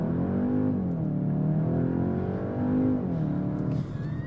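A 2023 Skoda Octavia RS IV launches hard under launch control, its engine heard loud and close from inside the car, rising in pitch through quick gear changes.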